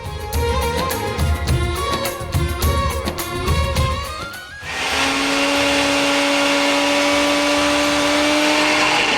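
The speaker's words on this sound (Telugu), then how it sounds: "ఓకే, మిక్సీ పట్టుకొని వచ్చేయండి అక్కడ ఉంది" A mixie grinds ginger garlic paste with a little water. It opens with a choppy, pulsing whir of blades catching, then settles into a loud, steady high-pitched whine as the paste turns smooth. Nobody speaks.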